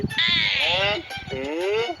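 A person imitates a calf's drawn-out bleating cry with two long, wavering calls that sound close and loud.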